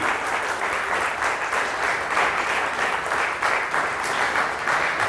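Steady, dense clapping from a seated audience at a silver jubilee award show in Chitral, continuous and even throughout with no voices standing out.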